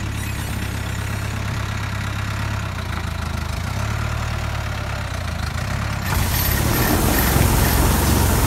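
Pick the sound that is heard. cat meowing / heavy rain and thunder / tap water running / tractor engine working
tractor engine working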